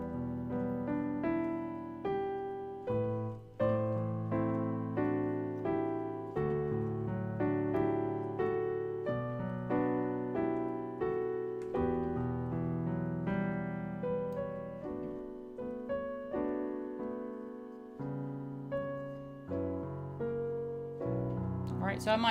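Solo piano plays a song starting at measure 13, a steady flowing melody over chords with clear, ringing notes and gentle decays, with no voice over it.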